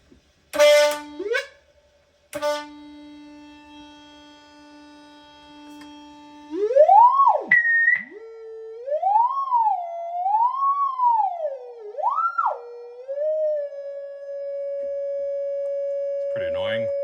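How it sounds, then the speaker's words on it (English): Pure sine test tone from an old signal generator played through a 1965 Twin Reverb amp, holding steady, then sweeping up and down in pitch before settling on a loud sustained tone; brief speech at the start. "Let's get the old signal generator going."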